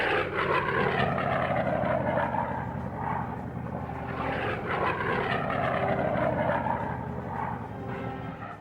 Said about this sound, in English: these P-47s are in a hurry to join the fray